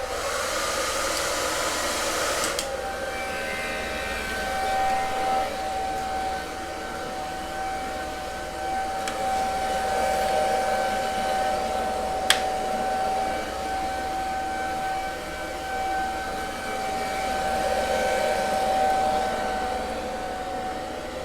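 Heat gun blowing hot air onto a part of a Tesla Model 3 during a trim upgrade, a steady loud fan roar with a high whine, running continuously and close with a few brief clicks.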